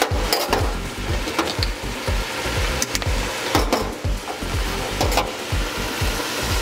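Apple cider vinegar hitting a hot pan over a medium flame while yellowtail snapper cooks, a close, steady sizzle with rapid crackling and occasional stirring clicks, no voices.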